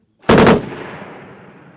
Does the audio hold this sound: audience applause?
no